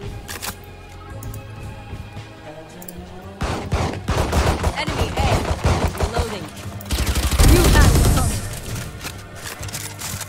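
Sharp gunshot bursts in Valorant, sparse at first and then dense, loud clusters of rapid fire with mechanical clicks, with players talking over the action.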